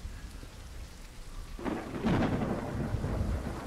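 Steady rain patters in a video game, Ships at Sea, then a deep rumble of thunder swells and rolls on beneath the downpour, loud and close.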